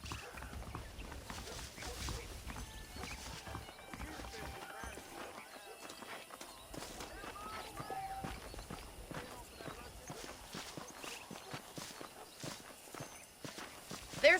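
Saddled horses' hooves clip-clopping at a steady walking rhythm in the western video game Red Dead Redemption, faint and continuous, with someone talking over them.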